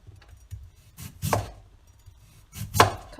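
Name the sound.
knife cutting potato into thin shreds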